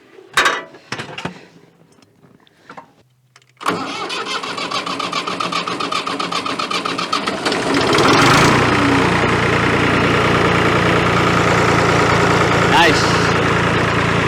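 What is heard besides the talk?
Massey Ferguson 231 tractor engine starting and idling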